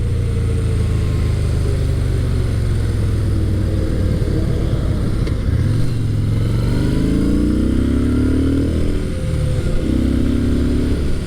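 A Yamaha SCR950 retro scrambler motorcycle with a low-revving, torquey engine drones steadily while riding, rising through the revs in a few smooth pulls near the end over constant wind noise.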